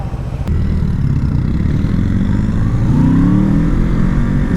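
A Bugatti Chiron powers past loud and close, its engine roar building steadily with a rising pitch sweep as it accelerates over a low rumble of road noise.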